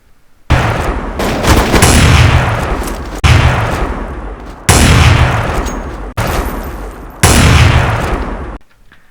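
AWP sniper rifle fired without scoping in Counter-Strike: Source: five loud, sharp single shots about 1.5 seconds apart, each followed by a ringing decay and bolt-cycling noise, heard alone.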